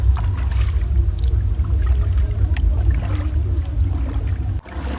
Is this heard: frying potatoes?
no